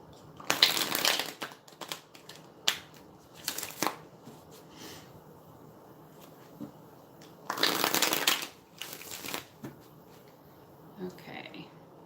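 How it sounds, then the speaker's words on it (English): A deck of tarot cards being shuffled by hand, several crisp riffling bursts of varying length separated by quiet gaps, close and fairly soft. "So give me just a moment to shuffle here."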